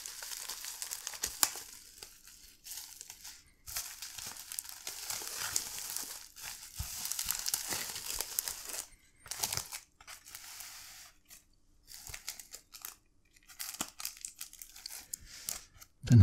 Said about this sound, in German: da haben wir schon alles nochmal sicher eingepackt in Luftpolsterfolie.